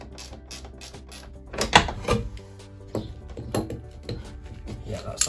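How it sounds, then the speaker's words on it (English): Fastener being tightened down during a camper van build with ceiling and wall insulation, a series of near mechanical clicks and ratcheting knocks with a few louder clunks around the middle and end, heard alone without talk. "so let's tighten this one down"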